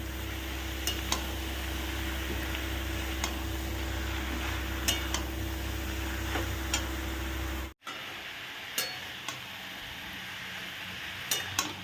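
Grated papaya frying with prawns in a pan while being stirred: a steady low sizzle with scattered light clinks and scrapes of a utensil against the pan, a brief dropout midway, no talk.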